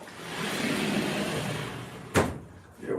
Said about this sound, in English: Let me just close the door so that